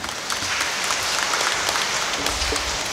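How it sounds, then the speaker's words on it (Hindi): A church congregation applauds to welcome a new sister, a dense, steady wash of clapping from many hands filling the whole moment at close range. "उनके लिए भी तालियां मार देंगे।"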